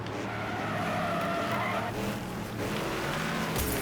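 Car tires skidding and squealing as a car spins out in the racing game Wreckfest, a loud continuous screech over engine roar for several seconds.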